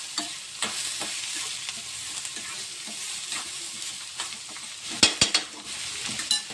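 Chopped onion mixture stirred in a frying pan, a steady sizzle with repeated scraping strokes and a few sharp clinks of the utensil against the pan near the end.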